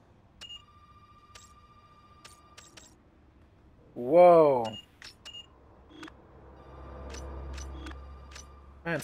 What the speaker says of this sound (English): Somebody get that damn phone!